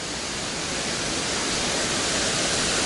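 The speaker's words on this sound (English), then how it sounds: "now we've come up on a waterfall" A waterfall on a backpacking trail in Dolly Sods roars as a steady, dense rush of falling water, loud and close, with no break and no voices.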